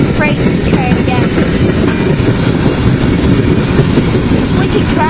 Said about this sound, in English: as you can see, it's a mixed freight train, yes.